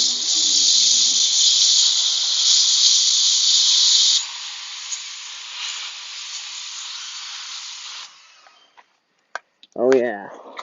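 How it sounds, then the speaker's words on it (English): A long, loud hiss of a spray nozzle blasting water onto aluminum parts for several seconds, then fading to a softer spray before stopping; a brief voice follows. "Try to spray them down and get them done real good."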